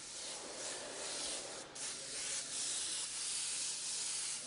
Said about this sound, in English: If I bring the airbrush back a distance, 6 to 8 inches from the surface, and spray a nice even layer of pearl on there